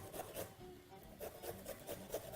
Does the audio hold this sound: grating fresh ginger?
yes